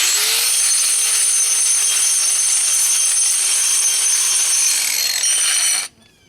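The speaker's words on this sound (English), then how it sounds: "Now I ground that edge down." An angle grinder grinds down the edge of a concrete driveway with a loud, continuous high-pitched whine and gritty abrasion for about six seconds before cutting off abruptly.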